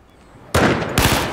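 Two loud gunshot bursts from the video game Battlefield 4, close and sharp, the second following about half a second after the first.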